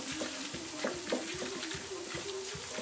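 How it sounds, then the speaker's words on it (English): A spoon stirs a beef and garlic powder mixture for kreplach in a pan or bowl, with rhythmic close scraping and faint sizzle throughout, steady and unaccompanied by talk. "And then I'm just going to stir that all up"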